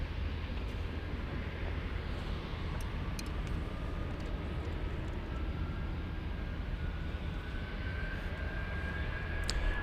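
At Munich airport, an airplane takes off with a broad, steady engine roar heard from a distance, staying even and continuous throughout without voices.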